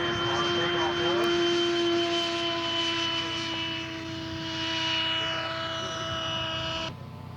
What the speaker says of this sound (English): His A4 Skyhawk. A4 Skyhawk wound up and on takeoff order.